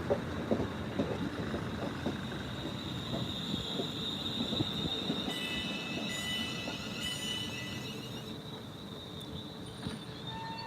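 Trains arriving at a station: rumbling rail cars roll in with clattering wheels and high metallic squeals, a steady rolling noise filling the platform, no talking.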